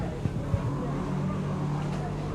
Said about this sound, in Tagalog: Pero naagi motor.